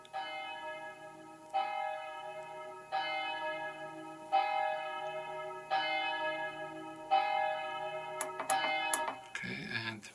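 Church bells from a Verdin 720 digital carillon strike six evenly spaced tones, ringing out clear and sustained one after another, followed by a few short clicks and a brief rustle at the end.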